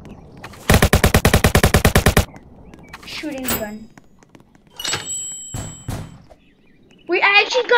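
Rapid automatic gunfire in the Roblox game Jailbreak rattles out in a fast burst of about fifteen shots, followed by scattered thuds, clunks and short game effects.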